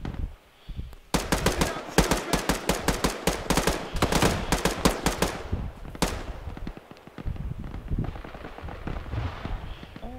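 M249 machine gun fire in the ArmA 3 military shooter: long, loud, rapid bursts of rhythmic automatic shots, a brief pause, then another sustained burst with distant gunfire continuing underneath.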